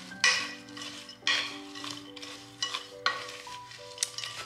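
A spoon stirs a grain-free breakfast cereal mix coated in melted coconut oil in a bowl: repeated scraping, rustling sweeps in an irregular rhythm, close up, alongside a steady low hum.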